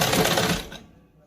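A sewing machine runs a short burst of stitching on a salwar, a quick rapid whirring that fades out within about a second, close and alone.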